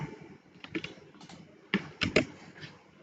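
Keys are pressed on a computer keyboard during work in a Microsoft Excel spreadsheet. A few quiet, irregular clicks and taps sit close to the listener over faint room noise, with no speech.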